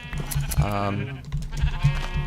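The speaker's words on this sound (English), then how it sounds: "as soon as I finish shearing my sheep here" Minecraft sheep bleating over and over, the wavering synthetic baas close and loud while they are sheared in the game, with someone talking over them.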